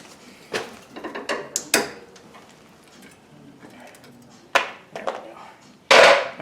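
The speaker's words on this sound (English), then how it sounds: "Let me cut that cable tie." A cable tie is snipped during a Ford Focus ST rebuild, with scattered clicks and mechanical rattles of tools and parts leading to a sharp, loud cut near the end, close by.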